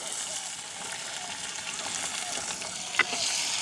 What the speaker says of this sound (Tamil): வெங்காயம் பச்சை மிளகாய் அப்படியே நல்லா வதங்கட்டுக்கும் எங்களுக்கு